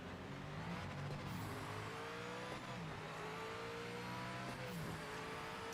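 Race car engine in the Project Motor Racing video game, a steady high-revving drone with repeated gear-change dips and climbing pitch, loud and continuous with no talking.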